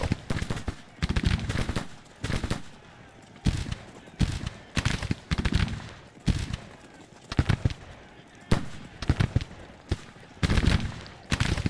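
Musket volleys from Grand Tactician: The Civil War: loud, sharp crackling bursts that repeat roughly every second or two in an uneven rhythm over a low battlefield rumble.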